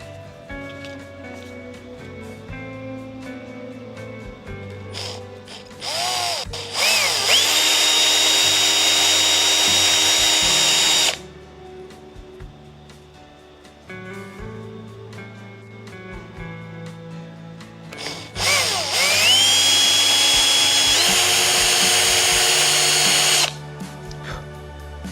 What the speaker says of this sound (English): and we drill it